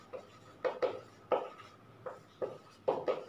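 Chalk or marker scratches out a chemistry lesson on a board in short, close strokes with brief pauses between them, quiet and without talking.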